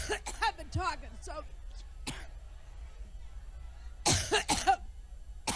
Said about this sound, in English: Had to come up with something to cover up the coughing spell.